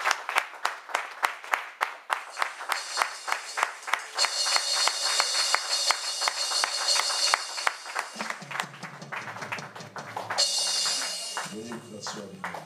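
A church congregation breaks into sustained, dense applause that fills the space from near and far, with the rhythm of many hands clapping; a voice cuts in over the clapping toward the end.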